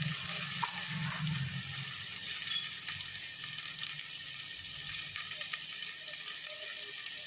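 Onions sauté in a pan for a gravy with a steady, close, even sizzle that holds without a break and has no voices over it.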